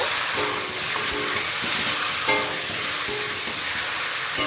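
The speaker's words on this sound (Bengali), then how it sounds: "করা চিকেনটা আমি দিয়ে দিলাম এটাও একটু নেড়ে ছেড়ে নেব" Chicken pieces fry over onions in a pan, producing a continuous close hiss with occasional soft scraping as they are stirred.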